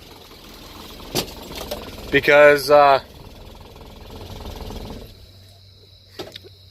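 An engine with unadjusted tappets runs with a quick, steady mechanical ticking and clatter, close by. A brief spoken word cuts in partway through, and a low hum continues near the end.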